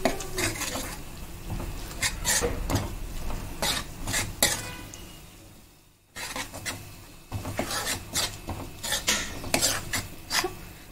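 Ginger garlic paste and turmeric stirred in a pan for fish pulusu, a steady run of scraping spoon strokes against metal with light sizzling underneath, pausing briefly midway before the rhythmic stirring resumes.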